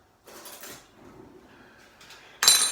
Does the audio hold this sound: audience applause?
no